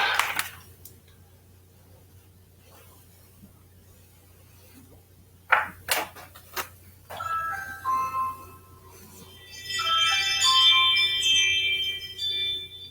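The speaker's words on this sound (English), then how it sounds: "Somebody is at my doorbell." A chiming electronic doorbell rings out with a bright, tinkling melody after a stretch of near silence and a few sharp knocks or clicks.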